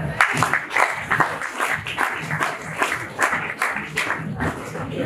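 Applause from an audience at a national service ceremony donating benches to a university, dense steady clapping filling the whole stretch at close to moderate distance, with no talk standing out above it.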